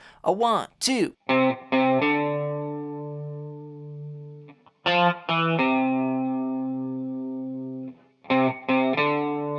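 A voice counts in, then an intro bass line plays. It is a few sparse, sustained notes with a chorus-like, effected tone, separated by short gaps.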